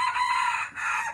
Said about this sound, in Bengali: মোরগ ডাকছে, দেখেন